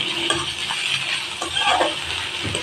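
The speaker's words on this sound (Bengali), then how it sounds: "পেঁয়াজটা বাদামি রঙের করে ভাজতে থাকবো।" Onions frying in a pan until browned, a steady sizzle with occasional stirring clinks from a spoon against the pan, close and continuous with no talk.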